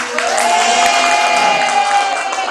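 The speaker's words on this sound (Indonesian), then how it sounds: "Ya, tepuk tangan untuk Mbak Wiji" A classroom group claps during a simulated math lesson on kite-shaped areas, a steady dense patter that runs for the whole moment, with a thin sustained tone riding over it.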